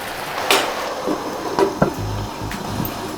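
A lid goes down onto a cooking pot of avial with a few soft knocks and scrapes. One louder clack lands near the middle, and a low background hum runs under it.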